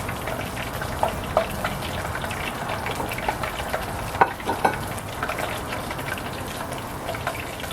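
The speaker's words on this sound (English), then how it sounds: "They are frying golden." Steady crackling sizzle of battered food frying in hot oil at a backyard barbecue, continuous and close, with a few small pops and stirring clinks.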